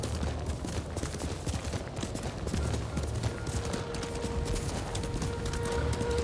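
In the Ghost of Tsushima video game, a horse gallops in a steady rapid rhythm of hoofbeats, loud and continuous over faint ambient game sounds.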